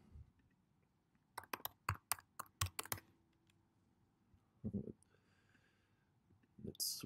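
Someone types a short burst on a computer keyboard, a few sharp, close key clicks in quick succession, followed by a pause and a couple of scattered clicks amid quiet room tone.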